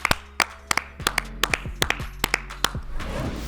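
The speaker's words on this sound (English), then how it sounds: "Clap it up." Sharp hand claps at an uneven pace, about a dozen, ringing out close and loud with a slight room echo, no voices alongside.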